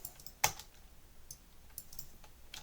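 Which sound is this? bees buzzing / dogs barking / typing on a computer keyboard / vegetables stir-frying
typing on a computer keyboard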